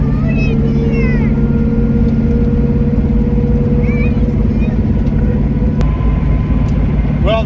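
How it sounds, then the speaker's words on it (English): A 1989 LS IROC's drivetrain grinds and whirs in a loud, unbroken interior drone while driving, with voices talking over it. "Well, the gears definitely make noise."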